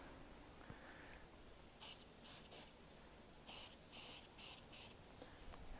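A can of Plasti Dip sprays a touch-up coat in about seven short, sharp hissing bursts, some in close pairs, over faint background noise.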